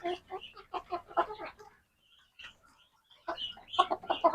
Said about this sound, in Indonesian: inilah keseruan dalam memberikan ayam petelur makan